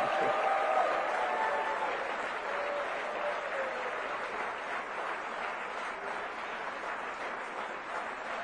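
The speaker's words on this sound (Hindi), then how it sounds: "इसमें तो ताली बजाओ यार" An audience at the India Today Conclave 2024 claps in a dense, steady patter that holds for several seconds, moderately loud and without speech over it.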